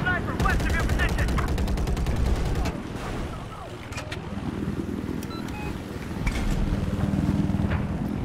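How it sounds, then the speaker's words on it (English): Gunfire in a military video game with a helicopter dodging Stinger missiles in a flood zone map: rapid bursts of automatic fire and distant shots over a constant loud engine and rotor drone. "people are shooting at us apparently"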